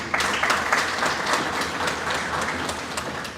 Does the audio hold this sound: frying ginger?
no